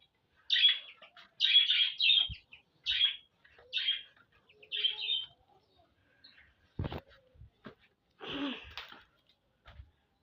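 Small pet birds chirp in a run of short, bright, evenly spaced calls up close while being given food, followed by a brief pause and a couple of softer chirps with light handling noises.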